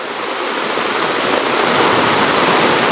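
Rainwater from a house rushing through a channel into a fish pond, a loud, steady, close gushing flow with no break and no voices.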